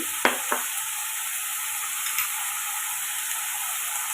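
Vegetables with tomato, tiffin sambar powder, turmeric, asafoetida and curry leaves sautéing in a pan, giving a steady close sizzle with a couple of brief utensil clicks early on.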